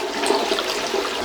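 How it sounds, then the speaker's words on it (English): A toilet flushing as the tank drains during a water supply line replacement, a steady rushing of water at close range, loud and continuous with no talking over it. "Now I'm gonna flush the water."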